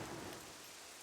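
Steady rain in an online multiplayer video game, a dense even hiss of falling drops heard alone at low level with no voices.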